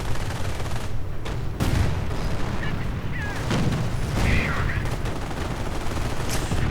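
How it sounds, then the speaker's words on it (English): Calliope rocket barrage in a World War II strategy game: a dense, rumbling fusillade of launches and blasts rolling continuously, with loud thumps near the start and middle over a steady din of battle. "And a Calliope barrage right there."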